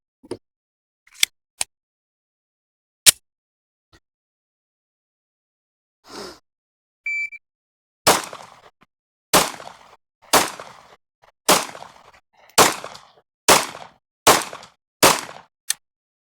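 Concealed carry pistol shots ring out, a few scattered early cracks and then a rapid string of about eight sharp, loud reports at a steady rhythm, close by with no talking.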